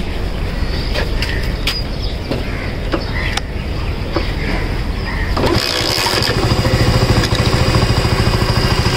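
A Honda CD 80 motorcycle engine is started and settles into a steady, loud idle in the second half, after a few sharp knocks and clatters near the start.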